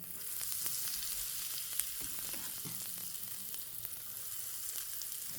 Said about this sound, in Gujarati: હવે ગરમ તેલમાં છે ને આપણે વઘાણી એડ કરવાની છે